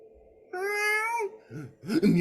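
A human voice imitates a cat, giving one long, loud, drawn-out meow followed by two shorter meows, close up and alone.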